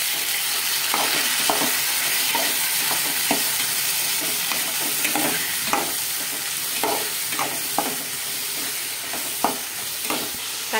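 Tomato frying in a pan with garlic for Pidikaranai kuzhambu, a steady close sizzle broken by repeated scraping stir strokes at an irregular rhythm, with no voices.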